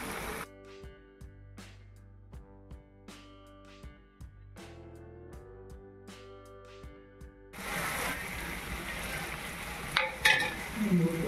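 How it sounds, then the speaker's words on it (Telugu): Chicken frying in a pan as coriander powder is stirred in, spoon taps and scrapes over a sizzle that swells into a louder hiss in the final seconds, close by with no talk. "దీంట్లో మనం ఇప్పుడు ఒక 1 tablespoon ధనియాల పౌడర్ వేసుకొని కలుపుకుందాం"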